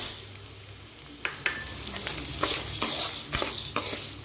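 Sago pearls stir-fried in a pan over a low flame, a soft sizzle under repeated scraping and clicking strokes of a spoon, close and fairly faint.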